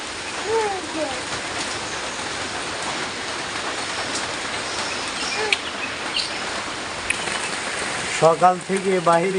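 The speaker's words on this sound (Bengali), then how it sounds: "প্রচন্ড বৃষ্টি পড়ে" Steady, dense hiss of rain pouring down throughout, with a voice briefly breaking in near the end.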